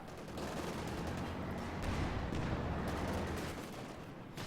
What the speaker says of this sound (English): Panzer IV takes a hit from the bazookas